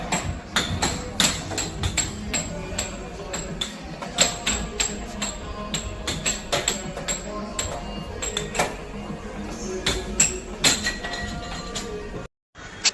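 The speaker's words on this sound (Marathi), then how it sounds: "मी बघा कसा हातोडा मारतोय" A hammer repeatedly struck against a strength-tester game machine at a family outing, its sharp impacts standing out over a busy, noisy background with some voices, before a brief silence near the end.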